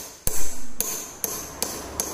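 Hammer strikes on a car body panel being beaten out until it bottoms against the backing, five sharp metallic blows in an uneven rhythm with ringing after each hit, close and loud.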